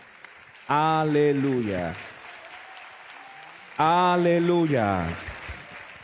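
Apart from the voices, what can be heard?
congregation applauding in church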